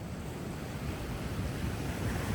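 Large ocean waves on the coast of Japan roll and crash as a steady, broad roar, with wind buffeting the microphone throughout.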